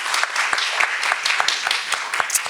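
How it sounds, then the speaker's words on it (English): A summit audience applauds its panelists in a lively, continuous round, with individual sharp claps standing out above a dense bed of clapping. "I want you to join me in giving these wonderful panelists a round of applause."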